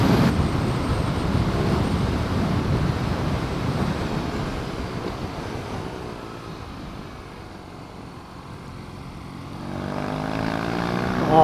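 BMW R nineT motorcycle ridden on the road, its engine a steady loud drone with wind rush that eases off and then rises again near the end, heard alone without talk.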